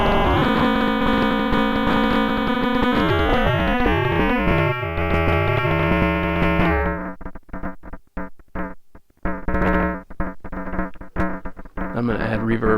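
Noisy output from a Kastle Drum synthesizer: dense buzzing harmonic tones sweep and bend against each other, then break into choppy, stuttering bursts of harsh noise with abrupt gaps, loud and close throughout.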